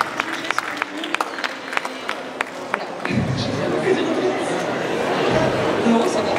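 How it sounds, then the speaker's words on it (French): Audience applause at a general competition of a manga festival: scattered claps at first, then swelling into dense, steady clapping and crowd noise that fills the rest of the clip. "vous pouvez encore une fois bien vous applaudir"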